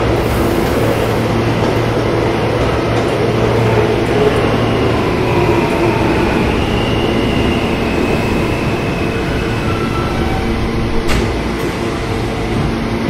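A subway train from a video game, a G line train, rumbles steadily along the tracks, a loud continuous roar with faint squealing tones drifting above it.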